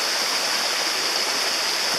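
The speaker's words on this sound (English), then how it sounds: "this water stream's noise in the background didn't spoil the video too much" A stream flowing beside a wooded perch where birds land, giving a steady, close, full-bodied rush of water that holds constant throughout, with no voices.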